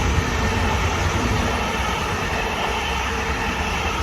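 An LIRR train at Valley Stream station roars past close by, a dense continuous rumble of wheels pounding over rail joints with faint rhythmic clatter throughout.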